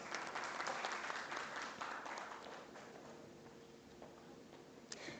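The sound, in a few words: audience applause for a panelist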